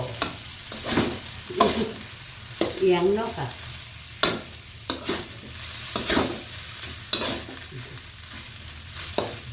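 Shrimp fried rice stir-fried in a pan, a steady sizzle punctuated by repeated scraping strokes of a spatula roughly every half second to second, close and clear, with a short spoken remark.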